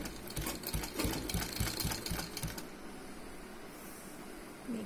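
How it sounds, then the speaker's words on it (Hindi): A sewing machine stitches the side seams of a printed kurti, with the fabric fed slowly. It runs in fast rhythmic bursts for about two and a half seconds, then settles into a quieter mechanical hum with no talking. "अब यहाँ से हम फुट को उठाते हुए बहुत ही स्लोली फैब्रिक को मूव करेंगे और अपने साइड्स में स्टिचिंग करेंगे"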